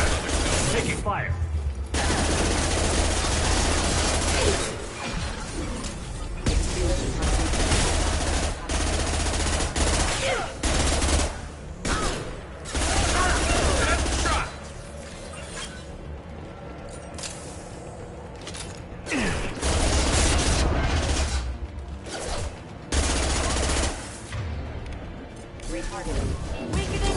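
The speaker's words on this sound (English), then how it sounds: "Taking fire." Heavy automatic gunfire and crashing impacts in a Mass Effect 2 Legendary Edition firefight, near and loud in repeated bursts, with a voice speaking over the shooting at times.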